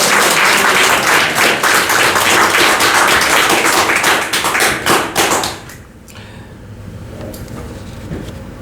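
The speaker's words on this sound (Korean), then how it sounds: "그걸 아주 귀한 분 오셨으니까 우리 박수 한번 쳐주세요" Clapping from an audience welcoming an honored guest at a Korean church gathering, dense and loud for about five seconds, then breaking off into a quiet room.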